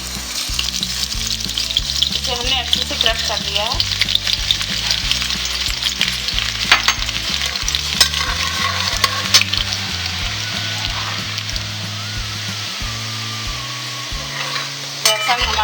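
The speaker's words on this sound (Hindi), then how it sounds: "अब इस सबसे पहले हम इसमें लहसुन डालेंगे।" Crushed garlic fries in hot oil in a pan, a steady dense sizzle with occasional scraping stirs throughout, while a person talks over it.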